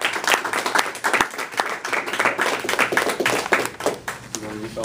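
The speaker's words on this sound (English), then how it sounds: "So please welcome me as we cheer Brian on to complete Competent Communicator" Lively audience applause at a Toastmasters meeting, dense close clapping from many hands sustained for several seconds, with no voices over it, before it begins to fade near the end.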